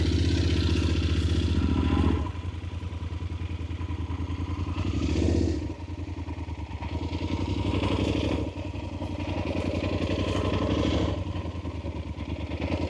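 A motorcycle cruises along a rural ride with a steady, loud engine drone and rumbling wind noise, with a few swells and dips in revs as it goes, heard alone without talk.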